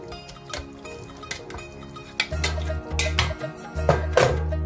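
About two kilos of beef go into a pot of cooked masala, with wet drips, soft plops and clinks of a utensil against the pot over a low steady hum.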